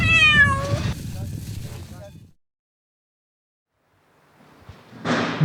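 A cat meows in a short run of tonal cries, close and clear, followed by a stretch of silence and then a brief return of sound.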